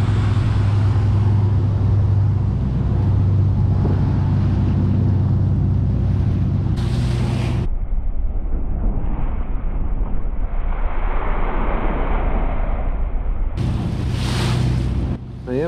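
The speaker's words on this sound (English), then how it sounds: "This 31-foot Chris craft takes those wakes a little bit better." A 31-foot Chris Craft motorboat runs through wakes, its engine a steady low rumble mixed with water rush and gusty wind buffeting the microphone, dipping briefly before surging again.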